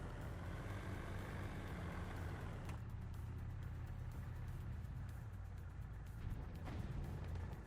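Steady low rumble of a tank's engine rolling along in War Thunder, continuous and fairly loud, with no voices.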